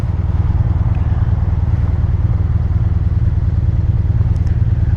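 The engine of a Kymco AK 550 maxi scooter runs steadily during a ride, a loud, close, even engine drone with a constant pulsing rumble.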